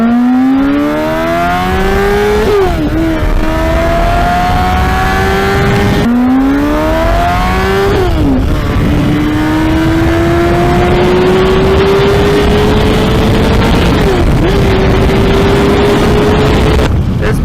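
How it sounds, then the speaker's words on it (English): A Honda CBR600RR sport bike engine revs hard through several gear changes, its whining tone climbing steeply, dipping at each shift, then rising again in long loud pulls at speed, with steady wind noise throughout. "We're going to hit some speed right here so you can really hear this bike open up."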